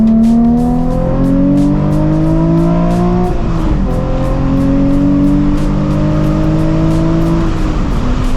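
A Nissan 350Z HR engine revs hard through its exhaust, pitch climbing to a raspy scream above about 4,500 to 5,000 RPM, dropping briefly at a gear change, then climbing again.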